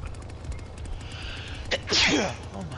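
A single sharp human sneeze bursts out near the end, loud and close, over a low steady background hum.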